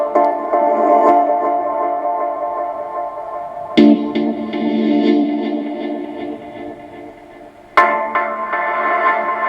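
A sustained synth chord hangs in the room, modulating and shifting with delay and echo. Two sharp attacks near four and eight seconds are followed by the chord swelling back, loud and alone.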